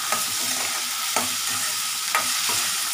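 Onion and tomato sizzle steadily in a pan. A utensil scrapes through them about three times at roughly one-second intervals over the continuous frying hiss, with no voices.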